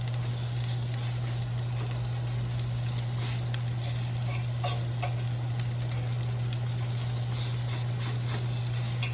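Hot water cornbread fries in very hot grapeseed oil, a loud, continuous sizzle with crackling pops throughout and no voices.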